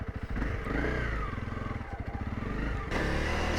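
A Honda CRF300L Rally motorcycle engine chugs steadily at low revs in first gear, crawling over rocky ledges. The pulsing thump is close and loud and continuous throughout.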